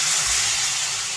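Water hits a frying curry in the pan and bursts into a loud, close, rushing hiss that fades slightly over its brief span, with no talk.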